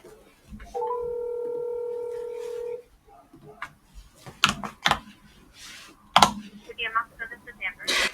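A recorded phone call opens with a steady telephone tone of about two seconds. Faint dialing clicks and keypresses follow, then people talk over the line.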